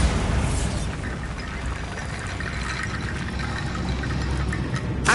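Bombarda blasting spell going off in Hogwarts Legacy, a loud, sustained rumbling burst that roars steadily for several seconds with a sharp crack at the end, no talking over it.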